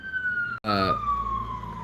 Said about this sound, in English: ambulances, paramedics, and cops zooming around all day